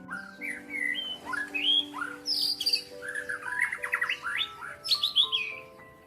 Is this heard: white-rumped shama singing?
yes